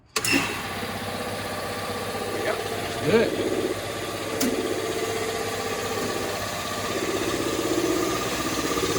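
An air compressor motor runs with a steady mechanical drone throughout, starting abruptly, while someone speaks briefly over it.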